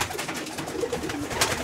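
Young pigeons cooing softly in a Romanian racing-pigeon loft, a low murmuring coo repeated under steady ambient noise throughout.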